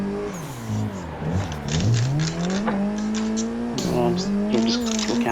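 Car engine revving and rising through a handbrake-entry drift at Sportsland Yamanashi, close and steady with a changing pitch, plus brief tire noise.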